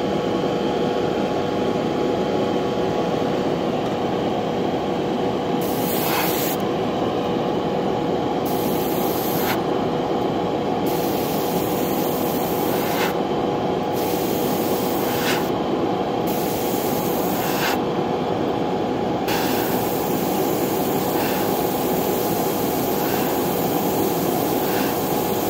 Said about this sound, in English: I'm just going to show you the differences in control you get with a dual action airbrush.